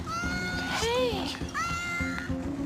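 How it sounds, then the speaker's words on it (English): Cat meowing in several drawn-out, rising and falling cries at close range, mixed with people talking and background noise. "There's a cat."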